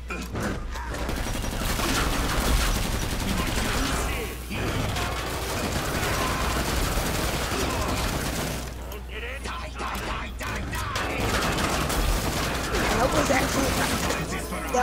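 Continuous gunfire and weapon clatter from the video game Killing Floor 2 keep up a dense, busy racket throughout, with a brief lull partway through, while a player talks over it.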